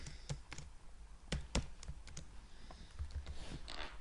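Typing on a computer keyboard, a quiet, uneven run of key clicks with a few sharper taps, close by with no talking.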